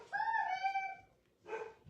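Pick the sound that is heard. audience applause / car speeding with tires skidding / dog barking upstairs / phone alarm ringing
dog barking upstairs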